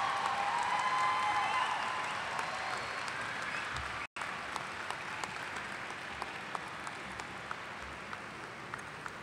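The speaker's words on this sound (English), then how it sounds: "Give a round of applause for people." Graduates and guests at Augusta State University's spring 2012 commencement applaud their supporters, producing a steady wash of crowd clapping at moderate distance, with a brief dropout partway through before continuing evenly.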